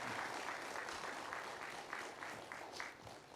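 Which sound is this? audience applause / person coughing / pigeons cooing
audience applause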